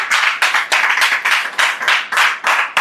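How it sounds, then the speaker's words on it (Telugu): Church congregation clapping loudly in unison during a candle service, a steady rhythm of sharp, close hand claps repeating about every third of a second, with no voices over it. "గట్టిగా చప్పట్లు కొట్టి దేవుని కనపరచు"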